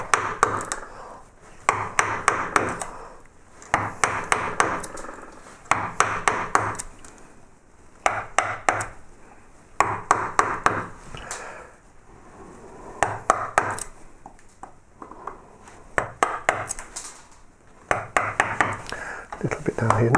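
A carving gouge chops wood away from a hand-carved open book's upper cover edge, giving repeated sharp knocks in short bursts with brief pauses between them. The knocks come close and clear, with quiet stretches in between.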